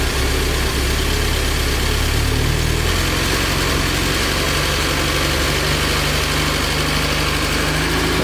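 A revived barn-find early Euro-spec Porsche 924 engine idles steadily with a low, rough rumble, with slight shifts in pitch as the throttle is eased, close and continuous throughout.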